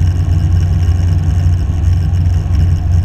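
A small training airplane's engine idles with no power applied on final approach, a steady low drone with cabin rumble filling the space continuously and close, without talk.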